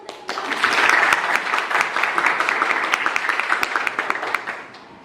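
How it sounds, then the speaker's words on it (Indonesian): Students in a classroom burst into applause, many hands clapping in a dense, steady patter that swells quickly and then slowly thins out toward the end. "Tepuk tangan"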